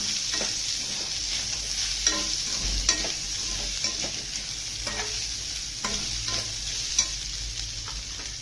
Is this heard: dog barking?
no